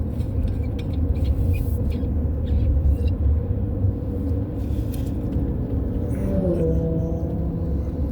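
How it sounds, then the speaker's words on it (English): Loud, steady engine rumble of a car running on the Tail of the Dragon mountain road, holding a continuous roar throughout, with a faint rising whine near the end. "if that car keeps sounding like that"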